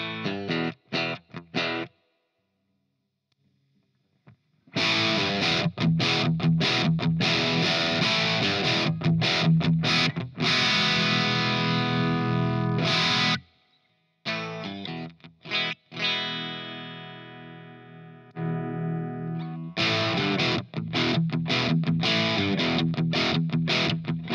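An electric guitar runs through a Revv G2 overdrive pedal, playing gritty, distorted chords and riffs in loud bursts separated by short pauses and abrupt stops.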